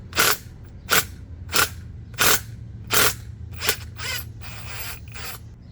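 A spring compressor is cranked on a truck coil spring during a 2-inch lift kit install, giving about six sharp ratcheting clicks at a steady pace, each close and crisp, followed by a softer scraping rattle as the rhythm breaks up.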